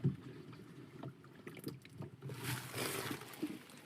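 Water splashing inside a leaking sailboat hull, faint irregular sloshes and drips that swell briefly near the end, quiet and close.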